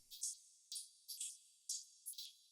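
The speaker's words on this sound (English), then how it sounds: "And the shaker." Shaker from a deep house track heard solo: five crisp, bright rhythmic bursts, each a short swelling shuffle with a small double hit, steady and evenly spaced with no low end.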